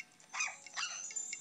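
A dog barks in the Nintendogs video game, a few quick, light yips and barks in a short burst over a faint electronic background, with no voices.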